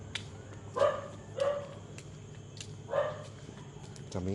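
Small dogs bark in a few faint, short bursts spaced apart during a walk outdoors, with some distance and background noise around them.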